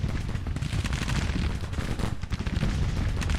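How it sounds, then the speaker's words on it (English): Massed musket volleys from Civil War troops in a Union campaign strategy game: a continuous, rolling crackle of many overlapping shots, steady and unbroken throughout, with no talking. "Start shooting here."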